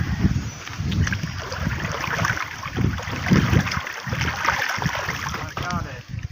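Ice-cold water gushes steadily from a pipe outdoors in a continuous broad rush, with voices talking over it throughout.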